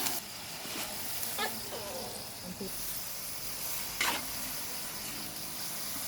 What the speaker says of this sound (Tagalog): Kukulan muna ho natin ng ilang minuto